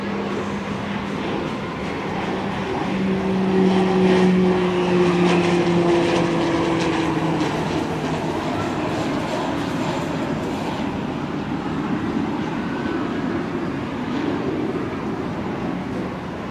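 A U.S. Army C-12 Huron twin-turboprop plane, tail 84-0157, at an airport in Ho Chi Minh City, a sustained loud engine drone with a rising and falling whine, swelling slightly and then holding steady, with no talk.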